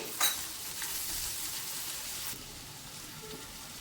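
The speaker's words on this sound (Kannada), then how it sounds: "ಬೆಳ್ಳುಳ್ಳಿ ಹಾಗೂ ಹಸಿರು ಮೆಣಸಿನಕಾಯಿ ಚೆನ್ನಾಗಿ ಫ್ರೈ ಆಗಿದೆ." Chopped garlic and green chilies fry in a pan, giving a soft, even hiss of sizzling with a single brief clink near the start.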